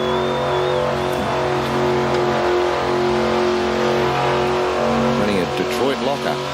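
A Ford Falcon with a 351 Windsor V8, Detroit locker and four-speed top loader revs hard at a street-machine event, its deep rumbling engine note loud and sustained while a commentator talks over it.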